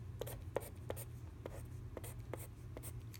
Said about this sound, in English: let's write out our mini place value chart.